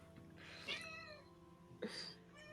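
Two plaintive meows from a cat, spaced about a second apart, each rising and then falling, heard close over a quiet room hum.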